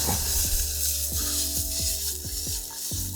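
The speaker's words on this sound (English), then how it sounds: "You want the mushrooms to be sizzling" Steady hiss of mushrooms sizzling in a hot pan over medium-high heat, with a continuous crackle and a few soft clinks or bumps throughout; no voices.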